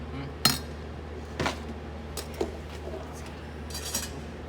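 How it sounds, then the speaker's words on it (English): A spoon stirs an iced latte with milk and ice in a glass, giving a few sparse, faint clinks against a quiet background. "And we usually do a little stir on this as well."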